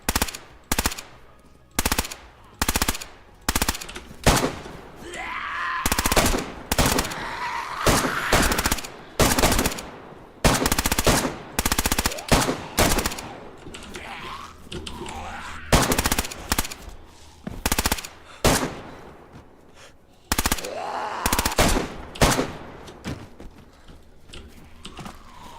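Rapid machine gun bursts in a video game, loud and repeated in short volleys with brief gaps, some longer sustained strings of fire, no talk over them.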